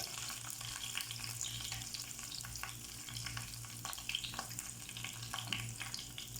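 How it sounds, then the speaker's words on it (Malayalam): Curry leaves frying in hot coconut oil give a steady crackling sizzle with bursts of spitting pops, close and continuous, over a faint low hum and with no talking. "വെളിച്ചെണ്ണ ചൂടാകുമ്പോൾ കുറച്ച് വേപ്പില ഇട്ട് കൊടുക്കുക"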